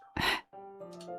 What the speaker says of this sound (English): What's that noise? It's coming from around the corner. It sounds like breathing.